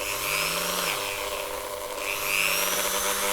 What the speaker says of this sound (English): I'm simply just going to take a Dremel, and I've got a little block of honing compound.